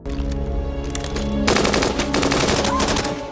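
Loud bursts of rapid machine gun fire in an action film, dense rattling volleys that grow heavier partway through, with a faint voice in the background.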